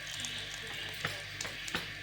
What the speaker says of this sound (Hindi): अब इसके ऊपर देसी घी जाएगा,